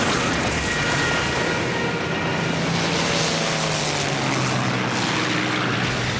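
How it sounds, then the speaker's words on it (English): Ju-88 torpedo bombers attacking a wartime convoy: a loud, continuous drone of propeller aircraft engines with a steady low hum that never lets up. "we were attacked by some 23 Ju-88 torpedo bombers"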